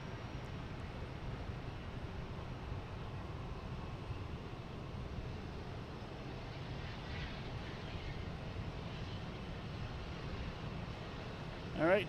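A Lufthansa Airbus A340 airliner on approach to land at Boston Logan Airport, a steady distant jet roar with wind buffeting the microphone throughout.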